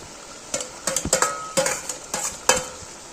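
Prawns tipped into bottle gourd simmering in a pan, a run of close spoon knocks and scrapes against the metal over a soft sizzle, no voices.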